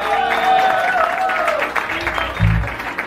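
Applause from a live music audience welcoming a guitarist, a steady patter of clapping mixed with crowd noise and a sustained tone. It stays fairly loud and close for about three seconds.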